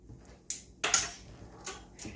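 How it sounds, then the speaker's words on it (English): A spoon stirring warm milk made from powdered milk for homemade yogurt: a few faint, light metallic clinks against the pot, scattered over about two seconds in a quiet kitchen. "give it a little stir"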